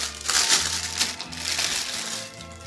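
Sealed plastic packaging around black-and-yellow costume bee horns on a wire headband being torn open, a close, loud run of crinkling and crushing plastic lasting a few seconds with no talk.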